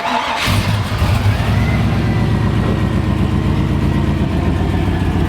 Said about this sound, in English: You don't really listen to the exhaust much here, but you can hear it right in the middle